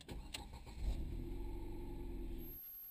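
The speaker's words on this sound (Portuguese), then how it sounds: "Um toque na chave, ele dá a partida sozinho." A Ford New Fiesta 1.6 SE PowerShift engine cranks and catches from a single key touch, then settles into a steady, close idle hum with a brief rise at the start before cutting off near the end.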